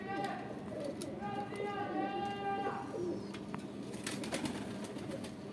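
Rampuri pigeons cooing close by in a loft, a steady run of soft low coos layered with chirps from other birds, while someone talks over them throughout.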